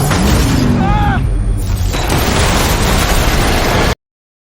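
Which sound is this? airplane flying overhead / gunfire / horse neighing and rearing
gunfire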